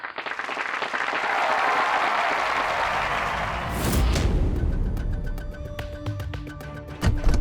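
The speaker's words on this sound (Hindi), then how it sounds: "अब बारी है दीनदयाल कॉलेज की, जोरदार तालियां।" Audience applause for a college's turn at a stage performance, loud sustained crowd clapping for about four seconds that then fades beneath music.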